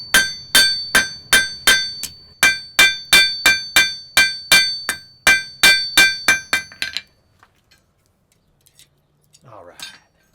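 A blacksmith hammers iron to make nails: about twenty sharp, ringing metallic strikes in a steady quick rhythm, close and loud, then the blows stop and a few faint clinks and a brief voice follow.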